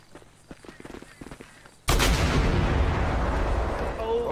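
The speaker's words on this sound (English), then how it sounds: "Be advised, we got an explosion from the plane." A plane explodes in GTA 5 (FiveM) during a Yellow Jack fire response: a sudden loud, broadband blast erupts after quieter footsteps and background noise, then a sustained roaring rumble continues to the end.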